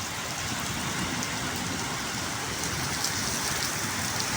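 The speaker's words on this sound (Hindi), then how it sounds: "बारिश आज बहुत तेज़ हो गई जी" Heavy rain pouring steadily, a dense continuous hiss of drops hitting surfaces, loud and unbroken with no talking.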